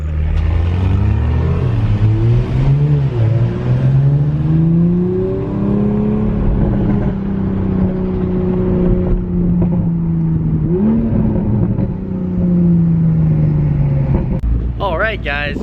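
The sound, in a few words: Toyota Supra sports car pulling up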